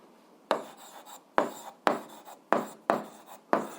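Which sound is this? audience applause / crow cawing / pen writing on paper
pen writing on paper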